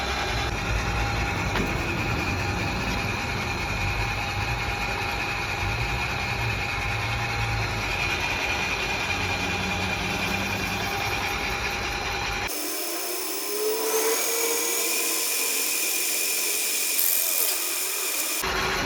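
Airless paint sprayer pump running steadily while being purged, a continuous mechanical hum and whine close by, with a sharp change in tone partway through.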